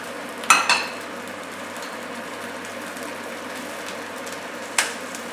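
Tenderstem broccoli sizzling in sesame oil in a pan: a low, steady crackle close by, broken by a couple of brief sharp clinks near the start and one more toward the end.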